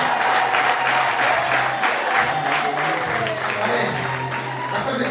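A wedding crowd claps in a sustained, dense burst, loud and close throughout, with a few cheers mixed into the applause.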